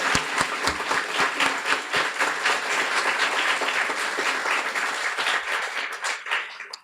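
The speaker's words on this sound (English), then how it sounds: "Let's give a warm round of applause for all our graduates." A graduation audience for guide dog graduates applauds loudly with dense, sustained clapping from a large crowd, holding steady for several seconds before tapering off at the end.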